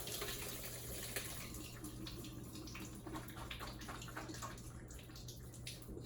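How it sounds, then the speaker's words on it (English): Water drained from canned oranges pours and trickles steadily, close by and fairly quiet, with a faint constant hum underneath. "All right, so I'm gonna drain this."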